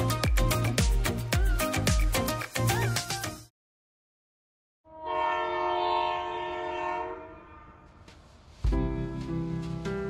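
Passenger train on the long Thane to Thivim run: rhythmic rail clatter, a sharp cut to silence, then a sustained tonal horn, followed by more rumbling clatter near the end.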